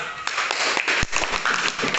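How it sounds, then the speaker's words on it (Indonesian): A classroom audience applauds a student group, a dense, steady wash of many hands clapping together that continues without a break for the full two seconds. "tepuk tangan untuk nomor 2"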